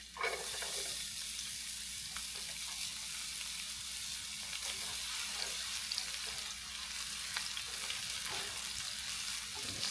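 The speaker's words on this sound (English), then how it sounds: "Saute this onion until it gets translucent." Chopped onion sautés in olive oil for jerk chicken pasta, a constant, even hiss of frying that runs unbroken and fairly soft throughout, with no one talking.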